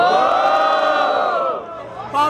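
Crowd at a rap battle in Barueri, São Paulo, cheering and shouting loudly together in one sustained roar that fades briefly before voices rise again at the end.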